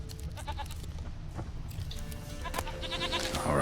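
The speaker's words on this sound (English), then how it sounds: "There you are. Here, goat. Here, princess." A goat in The Witcher 3 bleats in a few wavering, nasal calls over a low game ambience, the last bleat louder and closer, with no talk.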